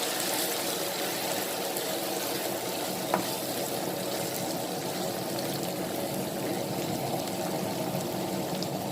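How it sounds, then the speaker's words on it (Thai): Water is poured into a hot pan while a minced-meat stir-fry is cooking, giving a steady, continuous sizzle and liquid hiss that holds evenly throughout with no talking. "เดี๋ยวเราจะเอาน้ำเข้าใส่ไป สักเล็กน้อยนะคะ"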